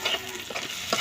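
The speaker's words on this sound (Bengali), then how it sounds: "আর একটু কিছু কাঁচা পেঁয়াজ আর কাঁচা করতে তেল দিয়ে ভাজা নিচ্ছি" Onions frying in oil with whole cumin and garam masala spices in a pan, a soft continuous sizzle broken by brief stirring scrapes, close and moderate in volume.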